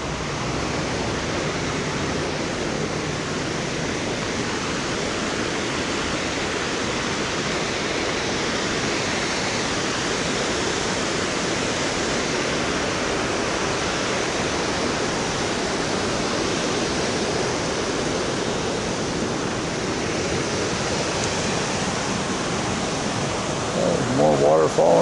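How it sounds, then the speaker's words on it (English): Continuous heavy rush of a waterfall on a walking trail near Idaho Falls, a steady broadband roar with no breaks, close and loud throughout. "More water falling from over there."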